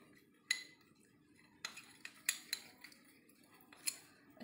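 A spoon stirs grated potato, flour and honey together in a bowl for a homemade facial scrub, giving faint, sparse clinks and scrapes in short bursts against a quiet background.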